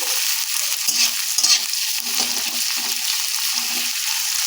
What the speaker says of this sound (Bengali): এখন এর মধ্যে দিয়ে দেবো একটা মিডিয়াম সাইজের পেঁয়াজ কুচিয়ে রেখেছি, ওতে দিয়ে দিচ্ছি। তেলের মধ্যে ভেজে নিচ্ছি।